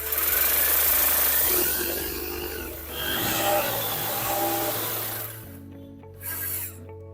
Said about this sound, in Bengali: আপনারা দেখতে পাচ্ছেন এই যে আমি ড্রিল মেশিন দিয়ে দিলাম